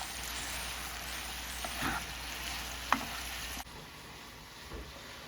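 Apples, craisins and nuts cook in a pan with a steady, soft sizzle, broken by a few faint stirring scrapes and small pops, before the sizzle quiets near the end.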